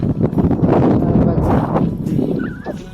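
Wind rumbles and buffets the microphone throughout in the middle of a farm field in the evening, with faint outdoor sounds and a short high whistle near the end.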